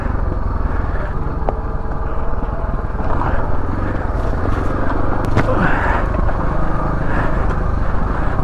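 A Beta Alp 4.0 motorcycle rides down a green lane in Surrey and Hampshire, its engine a continuous loud drone with rough wind buffeting close to the mic throughout.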